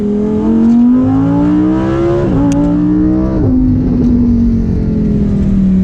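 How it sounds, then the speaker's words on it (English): A loud Lamborghini Huracan Performante engine revs up through the gears, pitch climbing, briefly dropping at each shift, then climbing again, close and powerful. "We'll do a little acceleration here."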